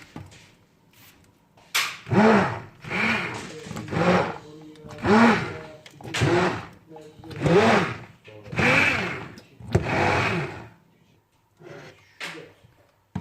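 An electric mixer whips homemade kaymak ice cream in a series of short, loud, buzzing bursts of about a second each, with brief pauses between them.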